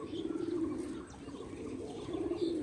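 House pigeons eating grit on the ground coo in a low continuous murmur, fairly close, with light chirps and faint wing flutters over a noisy background and no talk.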